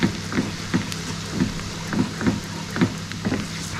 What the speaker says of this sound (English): our crayfish is starting to boil with the white foam